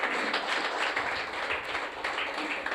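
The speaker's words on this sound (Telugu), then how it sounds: "చప్పట్లు కొట్టాలి ఇప్పుడు అందరూ." Church congregation applauding during a Telugu sermon, a dense, steady wash of many hands clapping together for the whole stretch, moderately loud with no break.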